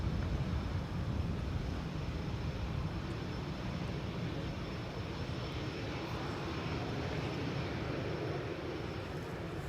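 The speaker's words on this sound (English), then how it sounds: "Iceland Air Flight 500 is now number 2 to arrive, and that's a 767 coming in" Icelandair Boeing 767 coming in to land at Amsterdam Schiphol in a crosswind, its engines a faint, steady distant roar that holds throughout without any talking.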